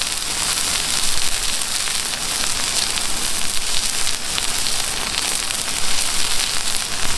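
Onions hitting a hot Camp Chef flat top griddle give off a steady, dense sizzle that crackles close by and stays constant throughout, with no voices over it.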